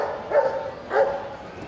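Firefighters' search-and-rescue dogs bark during a victim-search demonstration at an agricultural show, two clear, fairly close barks spaced about half a second apart over a low crowd murmur.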